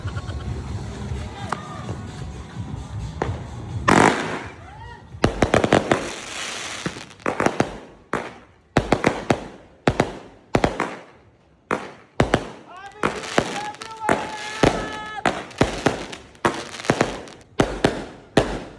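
Fireworks and firecrackers burst in quick irregular bangs and crackles at a New Year celebration, loud and close, with scattered voices and crowd noise between explosions.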